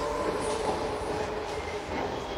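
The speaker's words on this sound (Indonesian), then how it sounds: "Tuh kereta tuh lewat." Train rolling past at close range, a steady rumbling roar with faint wheel squeal, continuous and fairly loud throughout the short stretch.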